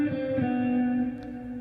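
A distorted electric guitar with effects and reverb plays a short phrase from a sixteenth-note exercise: a few quick picked attacks, then a sustained buzzy note that rings out and fades, heard alone without talking.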